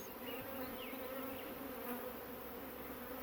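Honey bees buzz steadily during a beehive inspection, a close, constant droning hum from many insects with a few individual bees passing nearer.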